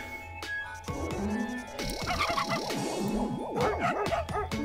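A dog in the video game Bokura gives a run of high, yipping barks, rising and falling in pitch over continuous game music.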